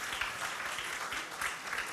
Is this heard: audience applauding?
yes